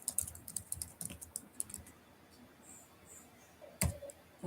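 Scattered keystrokes on a computer keyboard as a Discord link is typed, quick irregular clicks at first, then a pause and one sharper tap near the end, close and fairly quiet.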